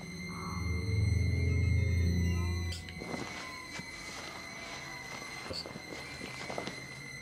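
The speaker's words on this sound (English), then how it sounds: "I hear footsteps." Footsteps inside the horror video game Outlast Whistleblower, a series of soft, irregular steps after a loud low rumble fades, moderately near against a steady electronic hum.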